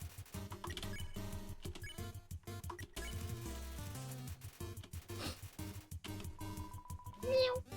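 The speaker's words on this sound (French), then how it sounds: "Pourquoi il y a une des grenouilles qui a fait miaou?" A frog in the Undertale video game lets out a short cat-like meow, heard amid dense game music and chiptune sounds.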